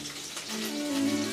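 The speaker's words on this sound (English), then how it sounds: "we're just going to take some pasta water. We're gonna drizzle" Starchy pasta water drizzled from a spoon into a pan while cooking a pirate-themed lunch, a soft steady trickle and splash with a faint tonal hum beneath, close and moderately quiet, no talking.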